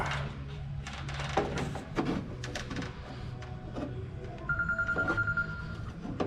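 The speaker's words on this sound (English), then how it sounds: "Yeah, my phone's ringing all the time." A phone rings briefly in the background with a steady electronic tone while someone clatters with a condensate trap and plumbing parts during a small leak repair.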